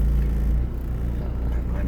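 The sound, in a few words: car driving in the dark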